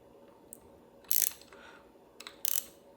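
A small star bolt in a Lewis brake lever is loosened with a tool, giving two short bursts of light ratcheting clicks, close and quiet, with a pause between them.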